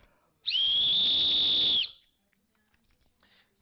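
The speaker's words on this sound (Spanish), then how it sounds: "este es un silbo especial para terremotos, o sea que hace un ruido más alto" A special emergency whistle meant for earthquakes gives one loud, piercing, steady blast lasting about a second and a half, close up, then cuts off into silence.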